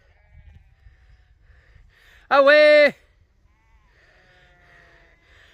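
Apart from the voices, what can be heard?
sheep bleating on a farm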